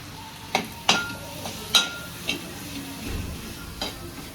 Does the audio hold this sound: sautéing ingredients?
yes